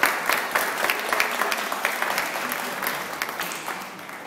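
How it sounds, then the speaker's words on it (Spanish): An audience applauds at a book launch in Mexico, with dense, continuous clapping near and fairly loud throughout, slowly thinning toward the end. "Un aplauso a todos."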